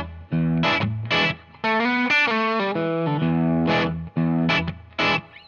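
An electric guitar plays a groove variation, a driving blues riff with short overdriven stabs and a sliding lick between pauses, close and alone.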